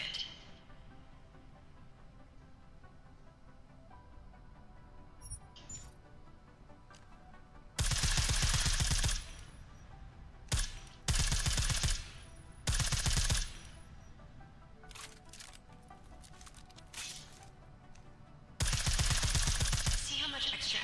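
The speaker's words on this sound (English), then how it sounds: "I like how silencers reduce sound, but the trade-off is less stopping power, less damage per hit." Suppressed gunfire in the video game Deus Ex: Mankind Divided comes in several loud rapid bursts of a few seconds each, separated by quieter stretches of low game ambience and faint clicks.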